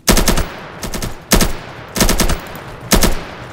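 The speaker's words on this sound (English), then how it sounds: "It's got the original burst assault rifle in here." Burst assault rifle fire in a Roblox Fortnite-style shooter, loud close three-round bursts repeated about five times with short gaps between, no talk over them.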